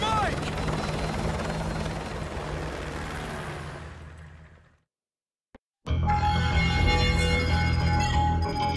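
A military helicopter in Call of Duty: Modern Warfare 2 roars loud and close with a dense rotor wash. It fades away into near silence, then a heavy mechanical din cuts back in abruptly.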